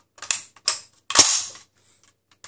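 Three sharp, loud mechanical clicks and snaps from an SKS rifle as its trigger is pulled with the safety engaged, spaced unevenly and close to the microphone, with no one speaking.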